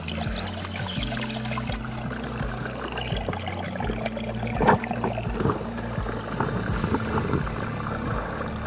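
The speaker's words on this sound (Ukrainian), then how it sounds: "Ми набрали 2 літри води" Cold mountain stream water splashes and pours as it is filled into a bottle on a Carpathian hiking trail, a steady close trickle and gurgle running throughout with one slightly louder slosh midway.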